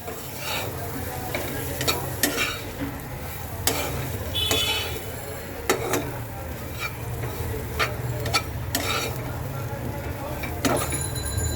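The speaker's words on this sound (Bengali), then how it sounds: "আস্তে আস্তে এটাকে কষাই" Aar fish curry masala with cumin and coriander powder stir-fried in a pan, steady sizzling with repeated spoon clinks and scrapes against the metal, continuous and close, while someone talks over it.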